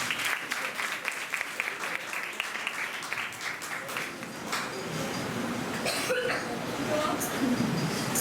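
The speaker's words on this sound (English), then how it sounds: "Please give them a round of applause" A school audience at a patriotic song competition applauds a performance, with dense clapping throughout, a few coughs and crowd murmur mixed in.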